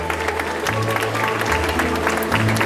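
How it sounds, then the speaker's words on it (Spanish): Steady applause from a crowd at a floral pilgrimage festival, dense clapping that holds at an even level throughout, with a low hum underneath. "Para ellos ese fuerte aplauso también, creo que más que merecido"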